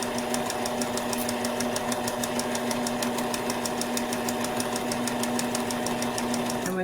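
A sewing machine stitches fabric to the edge in a steady, fast mechanical chatter with rapid regular needle clicks and a constant motor hum, close and continuous, slowing at the very end.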